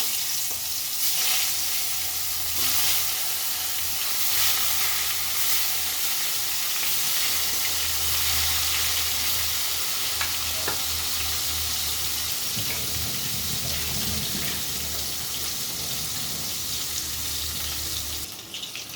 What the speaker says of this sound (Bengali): এবার এর মধ্যে দিয়ে দেবো আমি বেগুনগুলো একটু ভেজে নেব